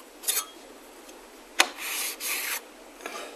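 Metal file rasping across a steel scraper blade resting on a piece of wood to remove the burr, a few quiet separate strokes with short scraping swipes and light taps in between.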